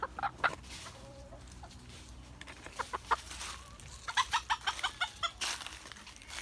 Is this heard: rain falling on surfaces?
no